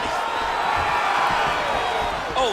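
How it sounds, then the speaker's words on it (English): Arena crowd in the UFC 5 video game, a simulated Forrest Griffin versus Tito Ortiz fight, keeps up a steady roar of murmuring and cheering, with a brief louder swell of shouts near the end. "the crowd continues to react with every passing land"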